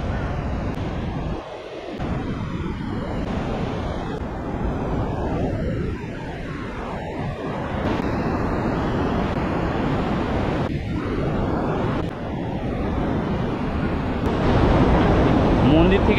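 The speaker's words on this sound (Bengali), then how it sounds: "এই হচ্ছে সেই পার্বতী নদী, কি স্রোত মারাত্মক।" Rushing Parbati river at Manikaran, a powerful mountain torrent roaring as a continuous broadband wash at steady loudness for the whole stretch, with no talk over it.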